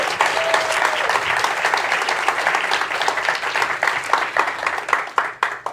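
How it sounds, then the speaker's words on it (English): An audience at the HundrED Innovation Summit 2022 award ceremony applauds, a loud sustained wash of many hands clapping that gradually thins into more distinct individual claps toward the end. "give a big round of applause again for our innovations"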